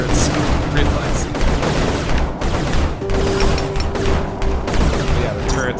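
Turret gunfire in the airship video game Sky Fleet crackles as rapid, dense bursts of shots throughout, loud and continuous, with a player talking over the action.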